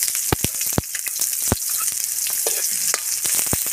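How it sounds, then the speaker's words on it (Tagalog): Garlic and onion sautéing in a pan for pancit canton with sardines, a steady close sizzle with scattered sharp crackles and stirring clicks, no talking. "magigisa na tayo ng bawang"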